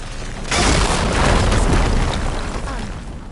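A fire grenade detonates in Horizon Forbidden West, blowing up a wall with a loud, sudden boom followed by a long rumbling, crumbling roar that slowly fades.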